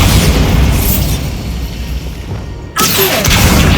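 In Hogwarts Legacy, a Bombarda blasting spell detonates with a heavy, close explosion and a rumbling tail. A sharp second blast cuts in after a brief dip, and no voices are heard.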